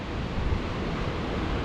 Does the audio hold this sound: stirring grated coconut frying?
no